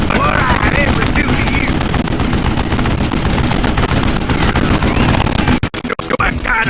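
Video game gunfire rattles in dense, loud bursts that sound almost continuous, breaking up near the end, with a voice shouting over the shooting.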